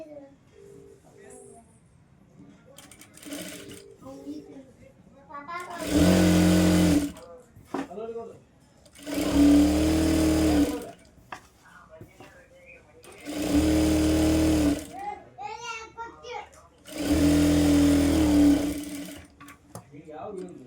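A sewing machine stitches a folded hem on a kids' lehenga blouse, running in four loud, steady bursts of a few seconds each, close by, with someone talking in the quieter gaps between them.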